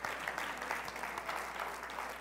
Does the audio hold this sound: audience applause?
yes